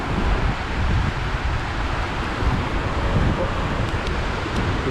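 Strong wind gusts continuously along a fast-flowing river, a loud, rough rumbling buffet against the microphone with a steady roar underneath and no clear speech.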